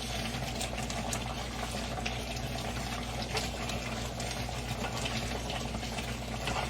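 Peanut brittle candy mixture boiling in a pot, a steady close bubbling and gurgling that holds even throughout with no speech.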